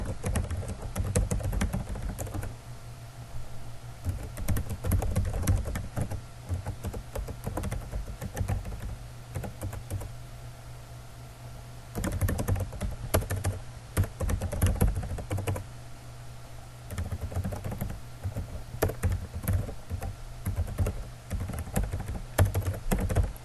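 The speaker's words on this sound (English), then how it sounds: "So I'll just go ahead and type mine real quick." Steady typing on a computer keyboard, close and fairly loud, a continuous patter of keystrokes with a few short pauses and no talk.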